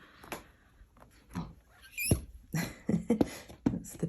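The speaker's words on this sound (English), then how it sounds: "That's the dog eating his duck toy in there." A dog chewing on a duck toy nearby, giving irregular soft gnawing clicks, squeaks and rustling bursts, faint and sporadic in a quiet room.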